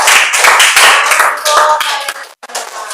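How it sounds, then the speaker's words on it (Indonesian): Loud, close applause from a class of students for a presenting group, a brisk burst of many hands clapping that fades out over about three seconds with a sharp break near the end. "beri tepuk tangan untuk kelompok 3"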